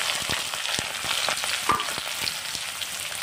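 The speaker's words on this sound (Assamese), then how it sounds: "পিঁয়াজখিনি অলপ ৰঙাকৈ ভাজি ল'ম।" Onions frying in refined oil with bay leaf, cardamom and panch phoron for soybean pulao, a steady close crackling sizzle with occasional sharper pops throughout.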